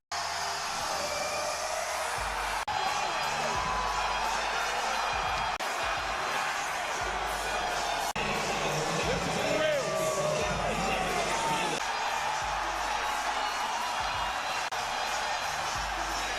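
A wrestling arena crowd roars steadily and loudly as Gunther makes his entrance, a dense wall of jeers and noise holding throughout with no letup.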